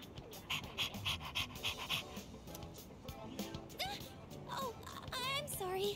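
A dog panting in the Persona 3 Reload video game: rapid rhythmic breathy pants at close range, followed by a few short whining vocal sounds with background noise and faint voice-like tones.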